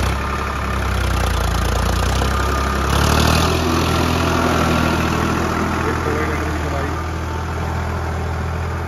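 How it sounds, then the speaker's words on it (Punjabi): A Farmtrac 45 tractor engine runs steadily in a soft potato field, a loud continuous low rumble with a brief swell near the middle, with a voice faintly present underneath. "ਫਾਰਮ ਟਰੈਕ 45 ਅੱਜਾ ਲੈ ਕੇ ਆਏ ਸੀ ਖੇਤਾਂ ਦੇ ਵਿੱਚ"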